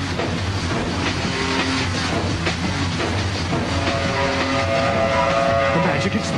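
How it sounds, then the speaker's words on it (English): A cartoon train rumbles along steadily with a continuous roar and faint rail clatter, loud and close throughout, with some tonal whine rising in the background. "There's an out-of-control train speeding down the expressway"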